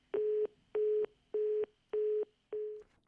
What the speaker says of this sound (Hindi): लगता है फोन डिस्कनेक्ट हो गया।